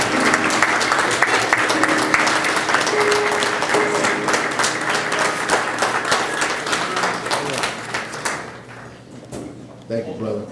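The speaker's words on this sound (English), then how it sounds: "Give him a round of applause." An audience at a fraternity MLK breakfast claps for the keynote speaker, loud, sustained applause that fills the room before tapering off, with a voice heard over it.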